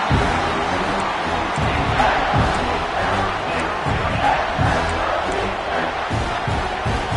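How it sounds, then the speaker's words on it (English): A packed football stadium crowd at Clemson roars and cheers through a third-down play, a dense, loud wall of voices with whoops and shouts rising and falling throughout. "the crowd really getting into it"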